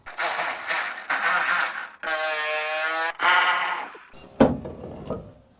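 A ratchet loosening the bonnet bolts on a crashed Mercedes CLA, three loud, close bursts of rapid clicking, followed by a sharp knock and a fading rattle.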